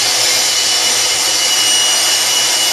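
An electric sander grinds steadily over a homemade slip harpoon tip, a loud continuous whirring hiss with a faint low hum underneath and no break in the noise.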